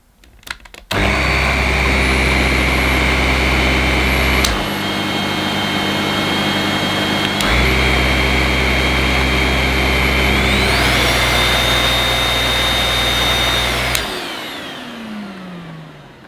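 A Karcher TSC 555 vacuum cleaner runs loudly and steadily, a whining motor roar that dips and recovers twice, rises in pitch as the suction changes, then winds down after switch-off.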